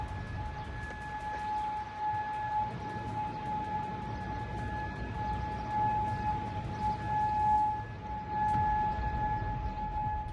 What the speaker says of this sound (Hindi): कुवैत सिटी में सायरन की आवाज तेज होती जा रही है।